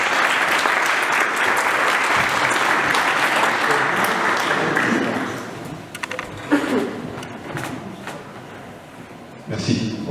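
Audience applause at a MEDEF Est Parisien business event on corporate environmental engagement, loud and sustained for about five seconds before thinning into scattered claps, shuffling and thuds, then swelling briefly again at the end.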